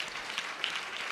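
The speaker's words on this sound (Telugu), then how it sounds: "అందరికీ గట్టిగా చప్పట్లు కొట్టండి." A church congregation at a Telugu Christian service claps in applause, a faint, dense patter of hands that stays even and distant for about a second.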